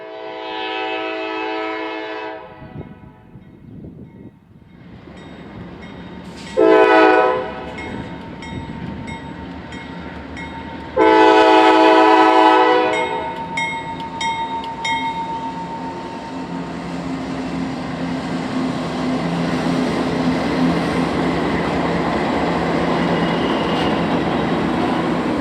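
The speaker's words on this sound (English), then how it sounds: "we catch train M565, the reverse of the M566 we saw at Hammond" A CSX freight train, M565, passes on an urban last-mile line, sounding several long horn blasts before a sustained rumble of rolling cars and wheel noise that builds and holds loud to the end.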